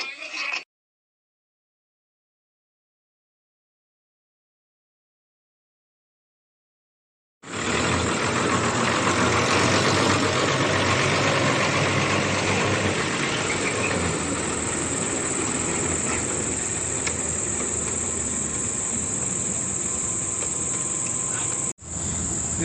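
After a short sound and several seconds of silence, a truck engine runs loud and steady at close range, a dense mechanical drone with a high whine, continuing without a break for the rest of the clip.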